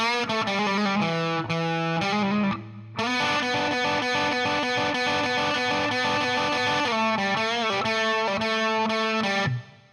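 An overdriven electric guitar plays a bluesy riff, with bent notes and quick repeated phrases, loud and close, alone without talking.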